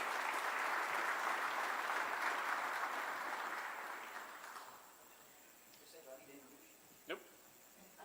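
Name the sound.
audience applause after a speech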